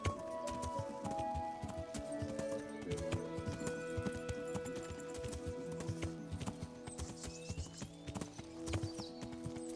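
Horse hooves clip-clopping steadily while riding through a forest in Kingdom Come: Deliverance, a continuous close rhythm of hoof falls over layered game music, with an occasional snort.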